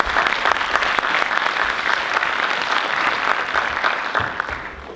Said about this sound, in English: Please give her a very warm round of applause